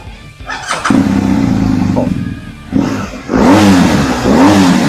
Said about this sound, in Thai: จะฟังเสียงยนต์กันหน่อยนะครับ